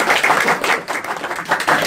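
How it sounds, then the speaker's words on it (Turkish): A short burst of clapping from a studio audience, dense and continuous throughout. "bir alkış alalım"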